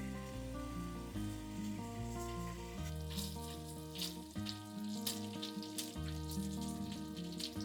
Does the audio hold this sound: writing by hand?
no